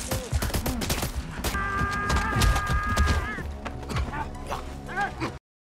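Rapid gunfire from a film shootout scene, dense bursts of shots crackling through overlapping voices, music and other action sounds, continuous and loud for several seconds before cutting off abruptly.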